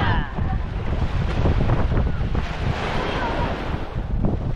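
Strong wind buffets the microphone in a steady, loud outdoor rumble during the launching of a large boat, with gusty roaring throughout and faint voices underneath.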